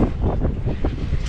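Steady wind buffeting the microphone at the Favignana moorings, loud and continuous with a low rumble and no talk.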